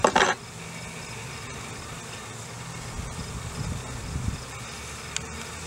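Honeybees hum at an open hive while rogue comb is straightened, a steady low drone close by, with a brief knock at the start.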